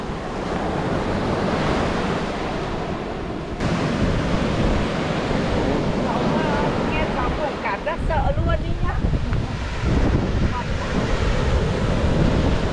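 Big ocean waves break on a beach in Luanda with loud, continuous surf. Heavy wind buffets the microphone, and a voice briefly speaks near the end.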